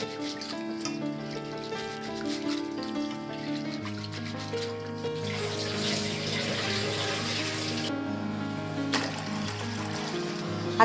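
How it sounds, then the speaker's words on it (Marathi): Water runs into a big pot as lentils and rice are rinsed, a steady wash of flow heard beneath continuous background music. "त्याच्यामध्ये या सर्व डाळी टाकून घेते आणि 5-6 पाण्याने छान असे धुवून घेते मी"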